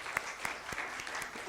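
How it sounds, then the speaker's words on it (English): Applause at the close of a session at an IPR summit, a small scattering of claps heard faintly and at a distance for a brief moment, under a quiet room. "Let's have a round of applause for"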